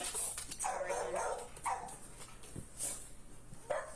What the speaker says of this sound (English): it's them fucking dogs